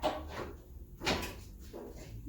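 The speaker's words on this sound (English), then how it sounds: "the door doesn't want to stay open." Door of a 2017 Honda Civic under rebuild swinging and bumping shut, a few soft thuds and knocks close by in a quiet workshop.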